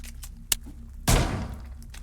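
A gun being reloaded in the video game Vampire Hunters 3, a sharp metallic click followed by a heavier mechanical clack, two close distinct hits with no talk.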